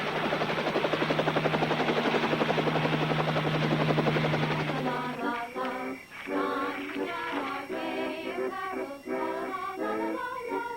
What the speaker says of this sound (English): You better get me the helicopter.